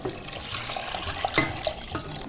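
Roast pork stock from a Bavarian pork roast poured into a roasting pan, giving a steady close liquid splashing and trickling for a couple of seconds, with no talking.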